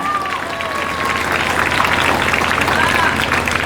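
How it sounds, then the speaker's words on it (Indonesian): A crowd applauds to honour the pesantren (Islamic boarding school), loud, dense clapping that swells and holds, with murmurs of voices and babble mixed in. "Maka tepuk tangan semuanya untuk pondok pesantren."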